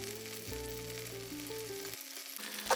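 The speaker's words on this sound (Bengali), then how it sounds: "প্রতি সাইড 10 মিনিট করে করে ভেজে নিতে হবে।" Marinated beef pieces frying in hot oil give a soft, steady sizzle for a few seconds, playing under background music.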